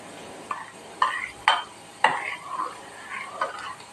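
A spoon stirs a spice mixture with fenugreek powder for an Onam ginger curry, scraping in a bowl with several distinct clinks and swirls at close range.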